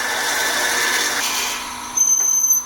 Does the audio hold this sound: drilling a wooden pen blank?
yes